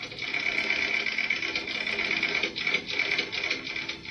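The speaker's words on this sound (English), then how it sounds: "the ticker tape machines were still tapping out the bad news" Ticker tape machines tapping out stock market news during the crash, a steady, dense mechanical chatter with a bright whirring tone, continuous and close throughout.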